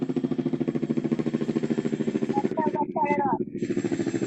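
Rhythmic rotor chopping of a helicopter pulses steadily and close throughout, with a brief voice speaking over it midway.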